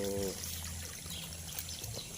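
Water pours and trickles steadily into a tilapia fish pond, a continuous splashing flow that stays close and fairly even throughout with no voices.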